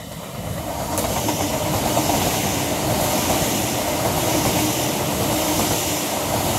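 An LNER London King's Cross to Edinburgh Waverley passenger train, unit 801221, rolls steadily through Morpeth station at close range, a continuous rushing roar with faint rhythmic clatter and hiss, no voices.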